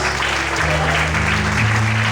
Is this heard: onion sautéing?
no